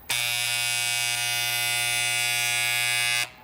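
A power sander with worn bearings starts abruptly and runs with a loud, steady, rattling whine for about three seconds before cutting off.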